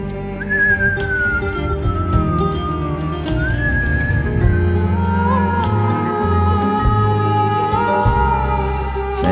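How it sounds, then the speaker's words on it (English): A group of people whistle their exhales together during a breathwork session, producing long sustained whistled tones that rise and fall over a steady breathy background. "whistle your exhale"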